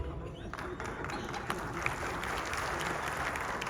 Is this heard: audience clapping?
yes